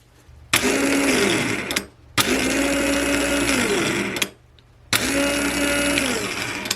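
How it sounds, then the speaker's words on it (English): A rebuilt ME301 aircraft starter motor whirs in three bursts, each spinning steadily for about a second and a half with short pauses between. "We've got a working starter. The Bendix gear looks good. The starter sounds great."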